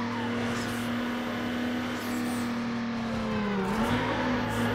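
Racing car engines droning steadily in Need for Speed: Underground as cars slide sideways through a drift, a loud continuous tone with a pitch dip near the end and faint tire noise beneath.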